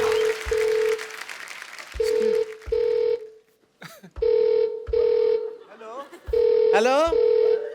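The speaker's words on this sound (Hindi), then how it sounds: "फोन आ रहा है" A telephone rings in repeated double bursts with short pauses between them, loud and close, while a voice cuts in briefly between rings.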